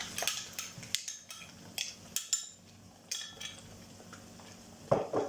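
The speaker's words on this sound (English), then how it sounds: "Just give that a bit of a stir." A spoon stirs gravy in a cottage pie pan, with irregular scrapes and clinks against the metal, some soft and some sharp, plus a louder clatter near the end.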